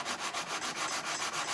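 Rhythmic back-and-forth sanding on the wooden body of a mandolin under repair, a steady scratchy rasp with regular strokes, close and loud and alone.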